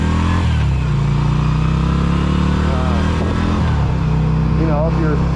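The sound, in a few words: Yamaha V Star 250 motorcycle riding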